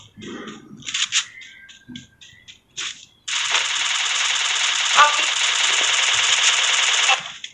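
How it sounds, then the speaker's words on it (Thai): Rapid automatic gunfire from the shooter game Free Fire rattles in a loud, unbroken stream for about four seconds after a stretch of voices talking. "เพื่อนมันยิงกูเหรอ"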